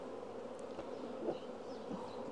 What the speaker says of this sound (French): Pauline, elle secoue les cadrons pour faire tomber les abeilles au fond de la mini